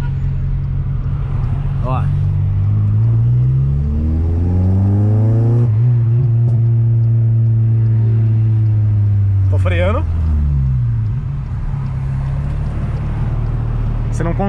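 A car with anti-lag activated revs repeatedly, the engine sweeping up and down while sharp exhaust pops and crackles burst out, loud and close, with someone talking over it.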